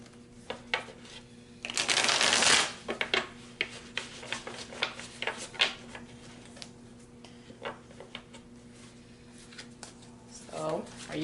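A deck of tarot cards is shuffled in a brief dense riffle burst near the start, followed by scattered soft taps and clicks of cards being handled close by.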